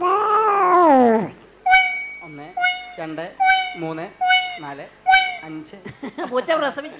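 A performer on a regional comedy stage imitates a cat with a string of drawn-out meows, one long wail followed by several shorter mews, loud and close, ending in laughter.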